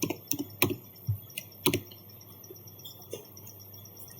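Keys clack on a computer keyboard while network commands are entered, with a few sharp, uneven taps close up over a faint steady background hum and no talking.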